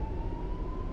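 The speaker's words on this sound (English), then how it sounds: "There they go, there's another police car." A police car siren in an American trucking simulator game wails steadily at a distance, a thin sustained tone over low road and engine rumble.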